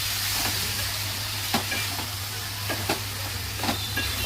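Tomatoes are stirred into cauliflower curry frying in a pan, with a steady sizzle throughout and occasional soft scrapes and knocks of the spoon.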